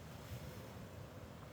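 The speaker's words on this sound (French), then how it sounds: "La mer, un petit peu agitée, mais ça rajoute vraiment un petit quelque chose d'incroyable" Rough, choppy sea surf washing onto a beach in Sardinia in November, a steady broadband roar of breaking waves mixed with wind buffeting the microphone, no voices.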